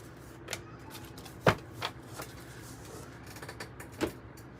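Tarot cards being shuffled by hand, soft papery riffles and slaps with a few sharper snaps, close and fairly quiet.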